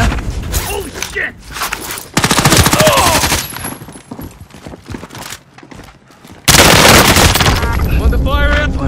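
Video game gunfire crackles in dense bursts, loud and close, mixed with shouting players and other game noise, with heavy volleys standing out near the middle and end.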